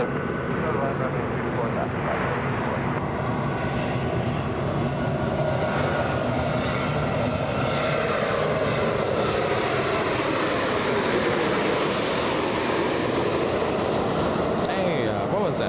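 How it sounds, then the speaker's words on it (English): Alaska Airlines Boeing 737 landing at LAX, a loud, sustained jet engine roar that swells and shifts in pitch as the plane passes close by, with voices talking over it. "Next one looks like a 737. I could bet the house that this is Alaska from Portland."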